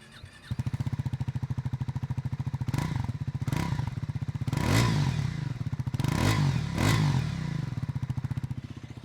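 A 2026 Triumph Scrambler 400XC motorcycle engine idles with a steady throb, then revs up sharply several times, each burst loud and close, settling back between blips.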